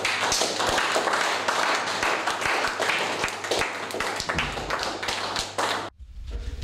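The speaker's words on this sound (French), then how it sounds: "Applaudissons pour la gloire." A church congregation claps together in a quick, ragged run of sharp hand claps that fills most of the moment, then cuts off abruptly near the end, leaving a low rumble.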